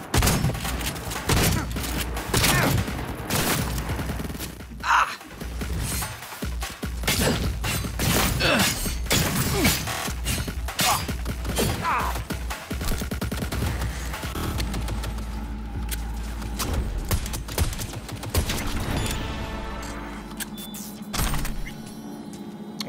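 Gunfire in Cyberpunk 2077: repeated loud shots and bursts crackle across a chaotic firefight, mixed with shattering impacts and thuds, close and dense throughout with brief lulls.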